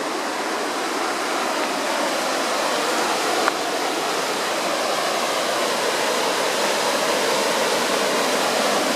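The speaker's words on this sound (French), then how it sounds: "Ce que vous entendez là, c'est un cours d'eau." A stream with small waterfalls rushes in a continuous, even hiss and roar, loud and close. It holds steady throughout with no voices.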